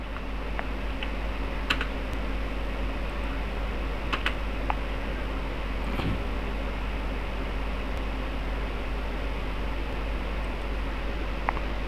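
Keys on a computer keyboard are tapped to enter AutoCAD commands: a few scattered, sharp clicks over a steady low fan hum, close but quiet, with no speech.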